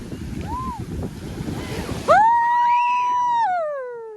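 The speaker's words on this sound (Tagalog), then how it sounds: "Malakas ang alon." Strong surf breaks on a beach with wind buffeting the microphone. The first half is a loud broadband rush of waves, then a person's long high-pitched shout takes over near the end.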